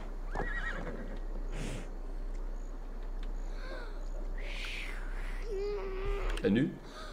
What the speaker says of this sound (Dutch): Probeert een paard te lokken aan de overkant van de straat.